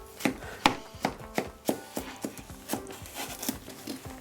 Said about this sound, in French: quand on veut faire des quartiers, Damien, on commence toujours par couper en demi et on continue après